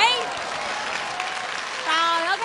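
Audience applause at a live Vietnamese comedy stage show, a steady clapping wash lasting a couple of seconds with a performer's voice speaking over it at the start and end.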